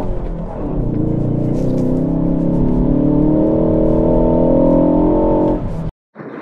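A 2019 Ford Focus ST with a 2.3-litre twin-scroll turbo EcoBoost engine accelerates hard, a loud, rising, harmonic-rich engine note that holds and climbs for several seconds before cutting off abruptly.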